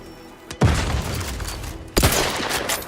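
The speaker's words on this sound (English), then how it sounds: "They're throwing grenades at me." Grenade explosions and gunfire in the video game The Outer Worlds: two loud, booming blasts about a second and a half apart, each followed by a sustained roar of fire and rumble, with no talking.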